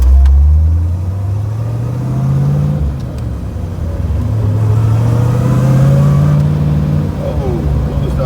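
A 1965 Chevrolet Corvette Stingray pulls away on the street, its engine rumbling loud and close with rising and falling revs through gear changes, while people talk inside the car.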